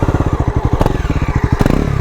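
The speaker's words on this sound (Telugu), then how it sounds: "ఒకసారి మీకైతే ఎగ్జాస్ట్ నోట్ అయితే వినిపిస్తాం" A red 2024 Bajaj Pulsar NS400 motorcycle idles and revs close up, its exhaust giving a rapid, rhythmic, deep thumping pulse with a couple of sharper blips of throttle.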